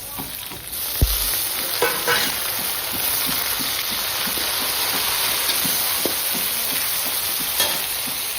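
Tomatoes sizzle in a hot pan for poha, a dense steady frying hiss with occasional taps and scrapes of stirring, close and continuous.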